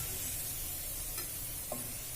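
Two medium onions, finely chopped, hiss and crackle steadily in leftover oil while being stirred, at low volume with a few brief scraping clicks of a spoon against the pan, and no voices.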